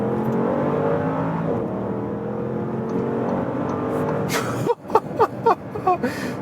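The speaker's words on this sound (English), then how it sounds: "Acceleration to the motorway." A Bentley Bentayga S accelerating hard onto the motorway, its engine note rising steadily from inside the cabin, then a series of sharp surges and gear-change bursts as it pulls from 60 to 130 km/h.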